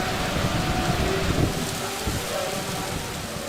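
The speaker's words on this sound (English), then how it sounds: "The music can't compete with the downpour" Heavy tropical downpour in Paraguay, a dense steady hiss of rain pounding surfaces with a low rumble underneath, loud and continuous throughout with no clear pauses.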